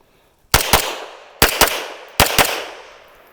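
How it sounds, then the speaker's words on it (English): Three close, loud pairs of handgun shots ring out during a target-transition shooting drill, each quick double followed by a ringing decay and a short gap. "If you just split the gun hard, let it return and then push the gun, right?"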